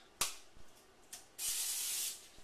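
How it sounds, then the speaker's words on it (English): Several short aerosol bursts of Pam cooking spray onto fish, two quick puffs then a longer steady hiss, close by with no talking. "I'm going to go ahead and spray the fish with additional Pam"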